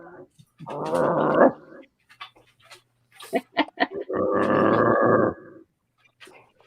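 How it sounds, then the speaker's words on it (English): A small dog barks and growls in two sustained gruff bursts separated by short yaps and snorts, close and fairly loud in a quiet room. "He's a cute little dog."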